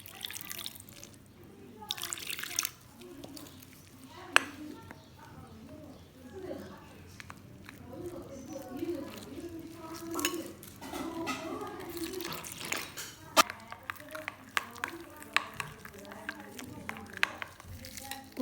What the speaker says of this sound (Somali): biyo ayaa kusoo darsanayaa.